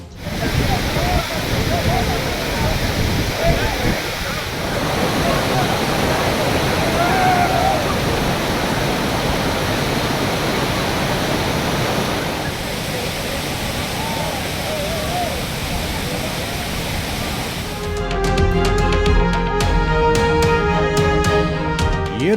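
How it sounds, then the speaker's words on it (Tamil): Kiliyur waterfall in Yercaud swollen by weeks of heavy monsoon rain, a steady close roar of pouring water that fills the whole clip, with people talking over it; near the end a burst of music briefly cuts in over the rush. "ஏற்காட்டில் கடந்த ஒரு மாதத்துக்கு மேலாக பெய்து வரும் கனமழையால் கிளியூர் அருவிக்கு நீர்வரத்து அதிகரித்துள்ளது"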